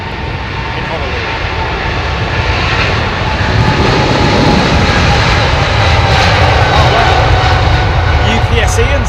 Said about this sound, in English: UPS Ian's going in there. In his 747-8.